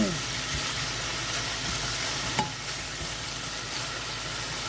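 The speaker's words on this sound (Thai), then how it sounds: "แล้วก็ผัดส่วนต่างๆเครื่องปรุงต่างๆให้รวมกัน ตอนนี้เราก็เร่งไฟให้แรงหน่อยนะคะ" Seasonings stir-fried in a wok over high heat for bean sprouts and vegetables: a constant close sizzle with scraping stir strokes and a sharp clank partway through.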